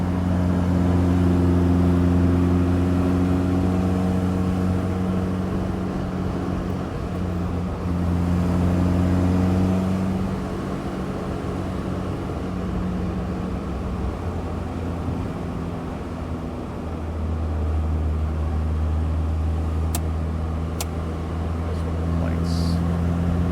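A 1967 MG Midget's engine drones steadily while driving through twisty turns, with a loud, sustained hum that rises and falls as it shifts and accelerates, running alone without talk throughout.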